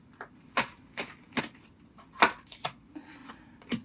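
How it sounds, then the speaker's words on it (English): Tarot cards handled and shuffled in a quiet room: a string of sharp, separate card snaps and taps at an uneven pace, close and clear, with no talking. "I'm trying to shuffle these cards"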